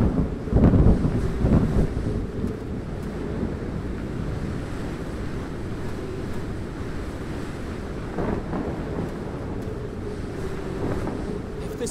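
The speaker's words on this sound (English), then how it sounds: "A snowstorm. Just our luck." Howling snowstorm wind in the video game Edge of Eternity, a steady broadband roar with a louder gust at the start, then continuous blustery rushing that holds level throughout.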